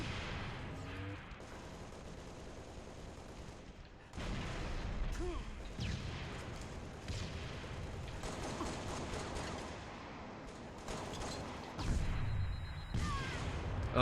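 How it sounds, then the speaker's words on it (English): Explosions and gunfire in the video game Halo, with several sharp blasts and bursts of shooting over a busy battle mix. "Oh my god, more grenades."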